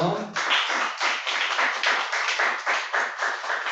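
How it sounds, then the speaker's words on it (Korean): A small church congregation at a Christmas discipleship class claps together in a steady, rhythmic beat, about three claps per second, close and clear after a brief spoken start. "우리 서로에게 박수 한번"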